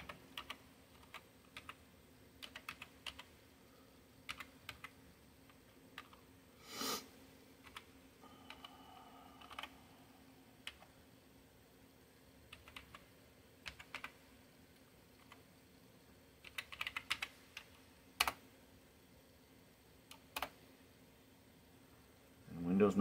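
Product key typed on a computer keyboard while installing Windows 98 on a Pentium 4 PC, heard as scattered bursts of fairly quiet key clicks with pauses between them over a faint steady hum.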